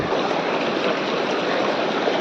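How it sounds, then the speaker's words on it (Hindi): Broad, steady rushing of deep river water as someone wades across a river near farm fields, loud and close throughout, with no talk. "यहाँ पानी कितना खतरनाक, मेरे पैर डूब गए पूरे।"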